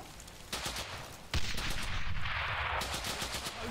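Gunfire in the video game Brothers in Arms: Hell's Highway: loud bursts of shots, with a sharp blast midway followed by sustained, dense firing that continues to the end.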